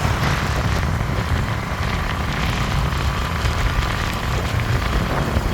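Strong wind buffets the microphone while crossing the Penna river bridge, a loud, steady roar of rushing air with no pauses and no voices.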